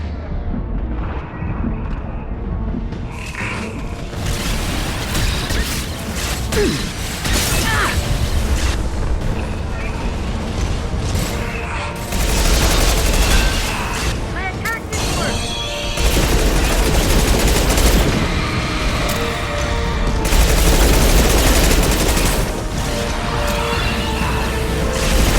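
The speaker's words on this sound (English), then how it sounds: "Firing anti-ship batteries at collector vessel." Anti-ship batteries in Mass Effect 2 boom and rattle through a dense, continuous barrage of heavy gunfire and explosions during a Collector attack on a colony, with voices calling out over the din.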